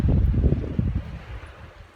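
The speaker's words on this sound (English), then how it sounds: "it is a cold wind" Cold wind blowing across the shore of Lake Silverwood on a rough, windy day, a loud low rumbling buffet against the microphone that eases off after about a second.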